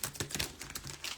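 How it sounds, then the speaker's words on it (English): A deck of smooth, shiny tarot cards is shuffled in quick, crisp flutters and taps, close and fairly soft, lasting just over a second with no talking. "I'm going to shuffle them and see."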